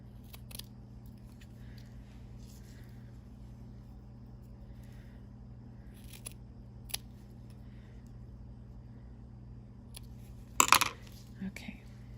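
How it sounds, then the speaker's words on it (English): Quiet, close snips of scissors working carefully through paper ephemera over a low steady hum, with a louder crisp burst of cutting near the end. "So I have to cut it carefully so that it doesn't fall apart on me."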